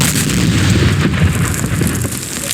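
A loud, sustained rumbling blast with crackling debris in a mining horror game, heavy and close, continuing for a couple of seconds without speech.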